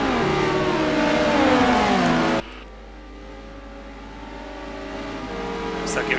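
Racing cars in a sim racing game roaring off the line at a green-flag start at Kyalami, loud revving engines climbing in pitch that cut off abruptly into a quieter engine hum, with a commentator talking over it.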